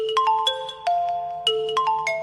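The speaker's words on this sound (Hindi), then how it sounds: "ले तेरी माँ की कॉल आ रही है।" A mobile phone rings for an incoming call, with a bright electronic ringtone melody of quick, clear tones that repeats its short pattern, loud and alone.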